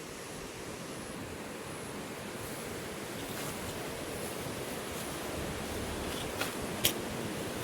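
Constant rushing water noise, a broad steady wash like a river flowing beside a farm lot in the Philippines, heard from nearby, with no voices.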